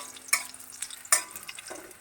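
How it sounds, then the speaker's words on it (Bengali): Chillies and panch phoron fry in a pan while being stirred, giving a faint sizzle punctuated by a few sharp scrapes and clinks of the spoon against the pan, close and without any voices. "একটু নাড়াচাড়া করে এগুলো ভেজে নেব"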